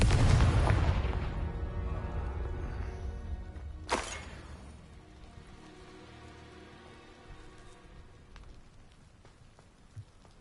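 A Confringo blasting spell detonates in Hogwarts Legacy with a loud, broad burst at the start that decays into a rumbling tail, followed by a sharp secondary crack about four seconds in and a faint pop near the end.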